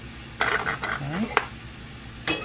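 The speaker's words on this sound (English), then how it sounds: "Just move it around in here." Chicken thigh gravy with flour being stirred in over medium-low heat, a spoon scraping softly around the pan in a few short strokes, with faint sizzling and brief clinks against the metal.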